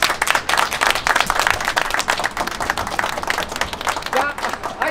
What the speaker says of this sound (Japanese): まずそのことに拍手